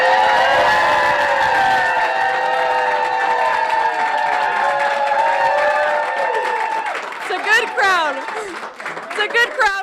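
Crowd of supporters gathered at a sheriff's home for an election-night watch party, a loud sustained babble of cheering voices and clapping that thins toward the end, with individual shouts and voices standing out.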